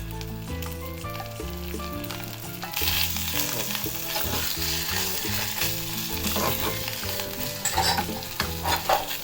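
Beans with olive oil sizzle in a small pot on a stove while being stirred, a steady crackling fry with scraping stirs, under background music.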